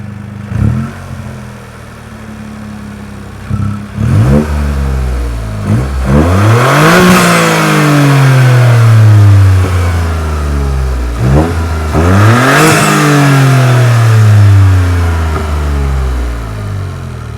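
A Toyota GR Corolla turbo engine with an SXTH Element intake and a 2J Racing mid-pipe and exhaust revs hard several times, each rise in pitch ending in a hiss from the turbo and blow-off valve, loud and close.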